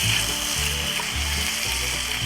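Chicken frying in a pan, a steady loud sizzle with broadband crackle and hiss running unbroken throughout, with low bubbling pulses beneath.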